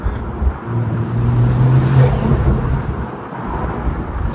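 A sports car likened to half a Bugatti Chiron drives through Monaco, its engine a close, steady low drone that swells toward the middle, with some wind rush mixed in.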